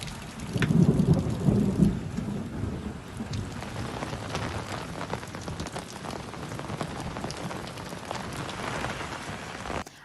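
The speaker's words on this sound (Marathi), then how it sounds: "रात्री विजांच्या कडकडाटासह अवकाळी पावसानं हजेरी लागलेली आहे" An unseasonal night thunderstorm in Maharashtra brings a deep rumble of thunder early on, over steady heavy rain pattering on surfaces that continues to the end.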